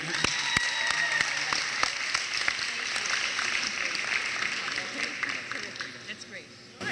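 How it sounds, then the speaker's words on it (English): A gym crowd at a girls' basketball clinic claps a warm round of applause, with sharp individual claps and taps standing out over a lively background of voices. "give her a big Somerville welcome round of applause"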